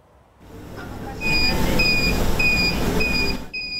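Repeated high electronic beeps from a social distancing alarm sound in a steady pattern over a rumbling, noisy background, starting after a brief quiet moment.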